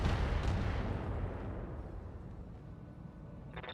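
Mech weapons firing at a vehicle in the Battletech video game: a heavy booming blast at the start that rumbles and fades over several seconds, followed by a brief crackle near the end, with no talking.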